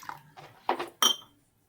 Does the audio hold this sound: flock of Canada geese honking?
no